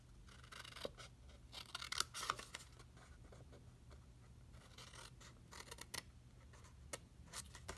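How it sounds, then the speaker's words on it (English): Scissors snipping through designer series paper panels for a 6-inch treat bag, a run of quiet, close crisp cuts in short bursts over a low background hum, no voice. "Now the rest of your panels cut up to the score line."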